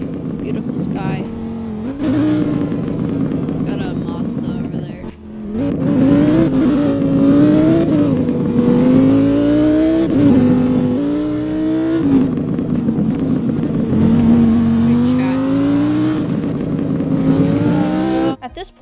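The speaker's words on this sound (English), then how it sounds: "So as I'm driving to Seaside Beach," A car driving along a road to a beach, its engine loud and steady from inside the cabin, rising and falling in pitch as it accelerates, with a short drop in the middle.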